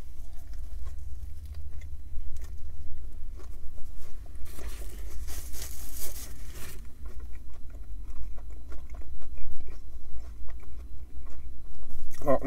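Someone biting into and chewing a McDonald's New York McWrap up close, irregular crunchy bites and soft mouth noises with a burst of wrapper rustle in the middle.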